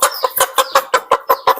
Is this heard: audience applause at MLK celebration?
no